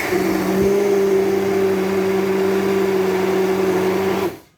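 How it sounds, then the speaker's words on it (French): A kitchen blender whirs steadily and loudly while mixing a simmering sauce, a constant motor drone with a hissing wash over it that runs for several seconds before cutting off abruptly. "Là, vous entendez l'ébullition de la sauce. Et évidemment, le vacarme du mixeur."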